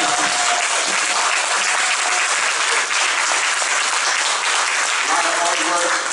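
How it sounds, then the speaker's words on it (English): The audience at a middle school spring band concert breaks into a loud, sustained wall of applause that stays full and even throughout, with a voice faintly audible beneath it. "So give them a round of applause for that"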